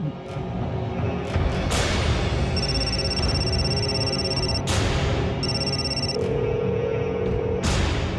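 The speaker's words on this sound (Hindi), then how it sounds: "फोन उठाओ प्लीज" A telephone rings in repeated electronic bursts with pauses between them, heard over a constant loud background rumble.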